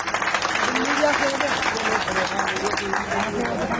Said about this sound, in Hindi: पहले तो एक बार जोरदार तालियां हो जाए हमारी माता बहनों के लिए।